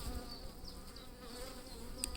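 Honeybees droning steadily inside an open Layens hive during a frame inspection, a close, continuous buzz with individual bees whining past now and then.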